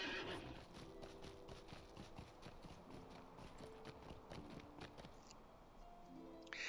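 Horse hooves clip-clopping steadily as a rider travels in Lord of the Rings Online, with a whinny and soft ambient game music around it; quiet and continuous, no talk.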